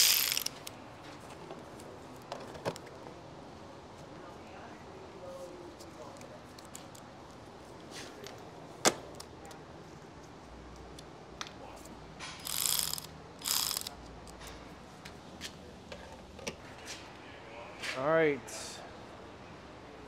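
A Ford truck's headlight is being unbolted, with faint ratcheting and clicking from the tool, some louder mechanical clunks, and a few sharp knocks over quiet room tone.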